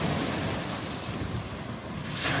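Rough sea at Primorsky: waves crash and surge steadily onto the shore, loud and continuous, with gusting wind buffeting the microphone and no voices.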